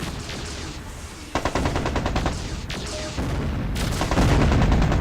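Concentrated weapons fire in the mech strategy game MechCommander 2: rapid machine-gun rattles and heavy shots layered over a dense roar, building louder toward the end.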